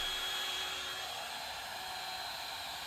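A Ryobi heat gun's fan blows continuously with a steady, airy whir and a faint tonal hum, holding an even level throughout without talk.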